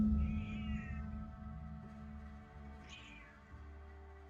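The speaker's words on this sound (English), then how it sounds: "I have a very needy cat." A pet cat meows a few times close by, short tonal calls over a steady low hum from a game's background sound, with no talk.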